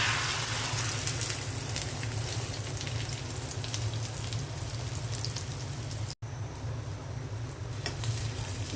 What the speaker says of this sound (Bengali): এখন আমি ডিমটা তেলের মধ্যে ছেড়ে দিলাম